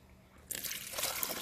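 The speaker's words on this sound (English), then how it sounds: "I use hot water and pour it into this thing so that we can melt the ice really quick" Hot water poured onto a frozen windshield washer pump to melt ice, beginning abruptly as a steady close splashing trickle that grows slightly stronger and continues to the end.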